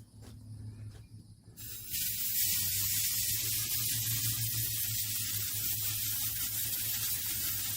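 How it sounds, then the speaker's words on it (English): An air blower clears excess material from the lettering of a pet grave marker, starting with a short burst and then running as a steady, loud, close hiss. "Then the next step I do is I take a blower."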